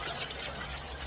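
Salted young radish greens are rinsed by hand in water, giving a brief burst of close, soft sloshing and splashing.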